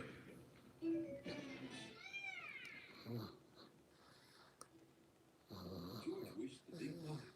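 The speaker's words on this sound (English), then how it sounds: "He's snoring." Soft, low snoring breaths rise and fall in a slow rhythm, faint and close, with a high whistling wheeze mixed into some breaths.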